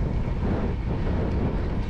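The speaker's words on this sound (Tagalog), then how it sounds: "grabe ang lakas ng hangin" Steady, roaring headwind buffets the microphone during a long-distance road cycling ride in Batangas, a dense low rumble with no breaks.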